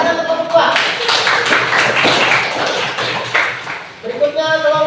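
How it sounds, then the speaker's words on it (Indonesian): A class group receives applause after standing up at a school event, a burst of clapping from many hands blended with voices, loud and close for several seconds. "Tepuk tangan untuk kelompok"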